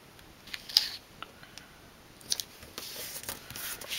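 Card paper for a handmade greeting card is trimmed with scissors, giving a few faint, crisp snips spaced apart against quiet room noise, with no talking.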